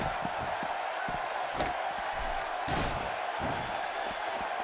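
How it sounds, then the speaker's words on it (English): Arena crowd noise from WWE 2K16 during a no-rules match between Rikishi and Tye Dillinger, a steady roar with two brief louder surges, mixed with thuds and impacts from the ring. "by the sound of this crowd, I think they're getting what they wanted"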